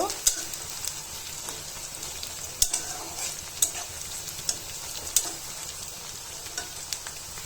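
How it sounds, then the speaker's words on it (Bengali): Onion and garlic fry in oil for khichuri with a soft, continuous sizzle, punctuated by sharp clicks and scrapes of stirring at irregular intervals. "পেঁয়াজ রসুন ভাজাটা হয়েছে এখন ঢেলে দিব খিচুড়িতে"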